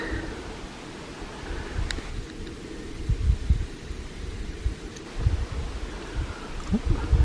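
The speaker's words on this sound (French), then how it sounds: "Ouais, il y a du vent." Gusty mountain wind rumbles and buffets the microphone in uneven bursts over a steady airy hiss, close and fairly loud.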